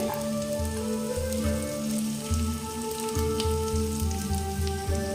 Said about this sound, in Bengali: এবার আদার কিমাগুলোকে দিয়ে দেওয়া হলো, আবার একটু ভাজা ভাজা হবে।